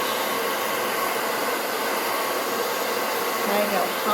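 A hair dryer blows steadily and loudly at close range while hair is blow-dried with a round brush. The hiss of air stays constant throughout.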